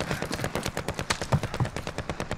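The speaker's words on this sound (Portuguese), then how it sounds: "Tem tiro no alto da montanha" Rapid gunfire in the online shooter Call of Duty: Warzone, a fast rhythmic string of sharp shots like automatic weapon bursts, fairly loud and continuous with no talking.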